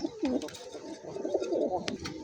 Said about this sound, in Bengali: এটা হচ্ছে মাদি কবুতর আর ছটফট করতেছে নর